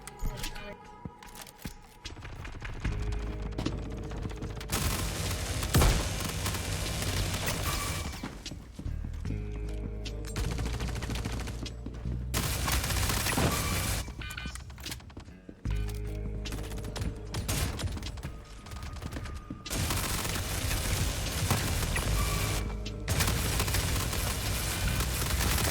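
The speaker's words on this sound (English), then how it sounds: "And boom, that is the Ripper SMG." Ripper SMG fire in the space game Star Citizen, with bursts of rapid shots separated by brief gaps over a long stretch of game noise, and a voice speaking at times.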